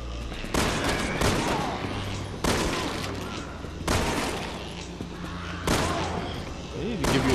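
Gunfire rings out in a Resident Evil game: several loud, sharp shots spaced a second or two apart, each with a short booming tail, while players talk in the background.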